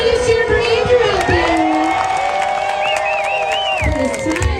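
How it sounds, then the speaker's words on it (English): A crowd at a lumberjack festival sawing contest cheers and shouts loudly and continuously, with whoops and some clapping, while children yell and voices call out over the noise. "Camp number 9 is cheering for Andrew out"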